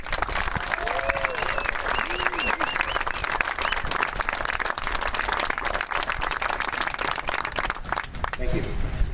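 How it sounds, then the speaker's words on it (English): An audience at a Marine graduation ceremony gives a sustained, dense round of applause outdoors, with a faint voice and a few whistles rising above the clapping. "join me this morning in a round of applause and recognition of their superlative efforts"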